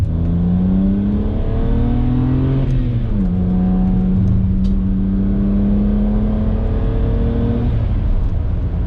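A BMW E9x 3-Series engine with its mufflers deleted revs loudly and steadily, its raspy exhaust note rising, dipping around the middle, then climbing again in a continuous close drone.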